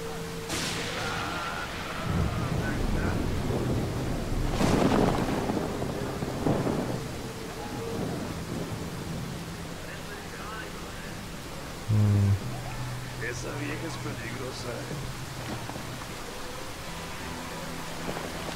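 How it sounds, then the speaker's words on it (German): Heavy pouring rain in Ghost Recon Wildlands, a constant broad hiss with low rumbling swells and a few sharp thuds and bursts, with no talk. "strömende Regen"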